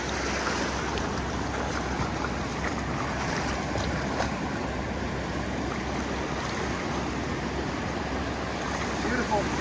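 Steady, loud ocean surf and rushing water while wading out to fish the surf at Galveston, a dense continuous wash with slight wind noise throughout.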